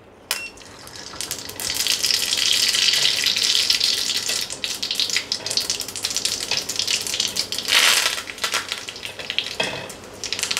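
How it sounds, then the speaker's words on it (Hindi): Mustard seeds dropped into a hot pan for tempering, sizzling and crackling in a steady loud hiss that swells near the middle and again toward the end, with no talking. "तो पहले मैं इसमें राई डाल दूँगी"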